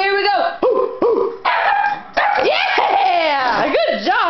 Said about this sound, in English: You're barking too soon.